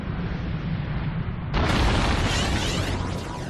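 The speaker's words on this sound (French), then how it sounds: "une explosion retentit au-dessus de la lointaine forêt sibérienne, sur les bords de la Tunguska" Explosion over a remote Siberian forest beside the Tunguska River, the 1908 Tunguska event: a dense, continuous roaring rumble that abruptly surges louder and brighter partway through, heard alone with no voices.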